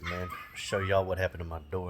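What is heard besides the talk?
puppy barking inside the house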